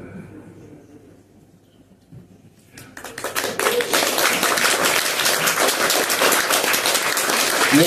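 Audience applause at a Bulgarian novel presentation, starting after a quiet moment and swelling into steady, close clapping from many hands that continues to the end.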